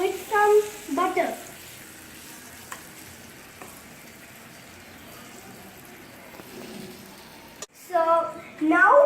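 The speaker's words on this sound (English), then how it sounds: "So now we have to do the frying part." Butter-greased dabeli buns frying in a pan give a soft steady sizzle throughout, while someone talks at the start and end over it.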